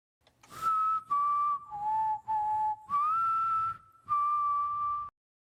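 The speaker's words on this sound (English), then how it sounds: "The whistle you hear at the opening of the video" A clear, melodic whistled tune of several sustained notes with short breaks between phrases, close and alone with no other sounds.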